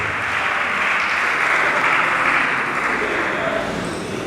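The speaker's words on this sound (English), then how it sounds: "A round of applause for him." An audience at a university chemical and petroleum engineering department's anniversary event applauds an honoured professor, a dense, even wash of clapping that holds steady throughout.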